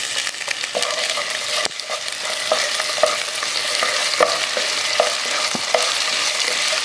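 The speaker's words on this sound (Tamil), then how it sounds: "இப்போ பூண்டை ஆட் பண்ணிக்கலாம். இது வதங்கும் போதே இஞ்சி பூண்டு பேஸ்ட் இதில் ஆட் பண்ணிக்கலாம்." Onion and garlic sautéing in a hot pan for wheat rava kitchadi, a steady loud sizzle with repeated sharp scrapes and taps of a spoon stirring against the pan, no speech.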